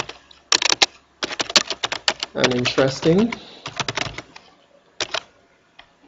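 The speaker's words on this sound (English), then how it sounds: "You simply just type on your keyboard." Keys clatter in quick bursts as someone types on a computer keyboard while working in Microsoft Word 2016, with short pauses between runs of keystrokes and a voice talking over part of it.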